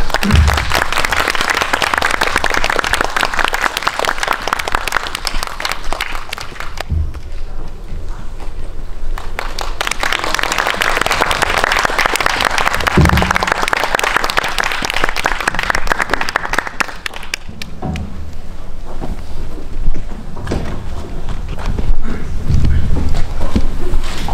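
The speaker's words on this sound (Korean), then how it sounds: "네, 큰 박수로 맞이해주시죠." An audience at a special screening with a Q&A applauds to welcome the director and two actors, in loud surges of clapping with brief lulls between them and some talking during the quieter gaps.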